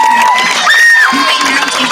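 An audience at a 5th grade promotion ceremony cheers loudly for parents, with high whoops and shouting voices rising over a crowd roar in one short, close burst.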